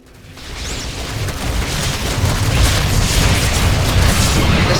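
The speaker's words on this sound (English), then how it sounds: "The Terrans have launched a missile." A Terran missile blast in StarCraft, a deep rumbling boom swelling from quiet to a sustained heavy roar that stays loud to the end.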